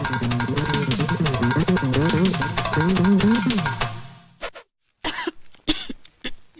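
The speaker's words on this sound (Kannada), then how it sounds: "ಏನಾಗಿದೆಯಮ್ಮ? ಕೆಮ್ಮು." A woman coughs repeatedly in a harsh, rapid run for several seconds, then a few shorter, separated coughs after a brief pause, close and fairly loud.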